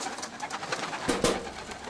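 Soft homing pigeon cooing close by, a couple of low throaty coos over a muffled outdoor background.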